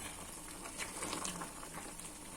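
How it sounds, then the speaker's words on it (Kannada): Chicken fry bubbling and sizzling in a pan, a steady close crackle of simmering oil and liquid with soft pops throughout, no voices. "ಈ ಕಡೆ ಫ್ರೈ ಕೂಡ ಕುದೀತಾ ಇದೆ"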